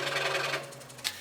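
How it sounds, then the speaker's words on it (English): A scroll saw runs steadily while cutting intarsia dolphin pieces, with its motor hum and rapid blade buzz held close and continuous before easing off, followed by a brief sharp click near the end. "I had to unplug the foot switch so that I could just have the saw run without my foot controlling it"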